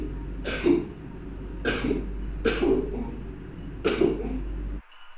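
Four harsh, raspy coughs in a video game repeat at roughly even intervals over a low steady hum, then the sound cuts off abruptly.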